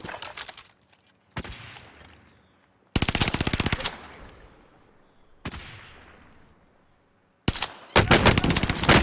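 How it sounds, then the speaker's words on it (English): Bursts of automatic gunfire in a Call of Duty Warzone match on Caldera, loud close rattling volleys that stop and start, with fainter reverberating tails and distant shots between them. "Oh, I'm getting shot in the back."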